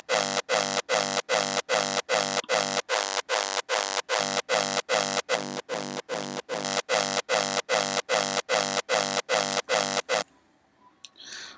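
Layered raw hardstyle kicks with offset tails: a fast, evenly spaced run of about two dozen loud distorted kick hits with long gritty tails, close and alone, then a brief quiet pause at the end.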